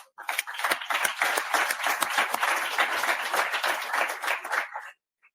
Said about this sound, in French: on devrait donner un dernier tour d'applaudissements pour tous nos speakers de tout à l'heure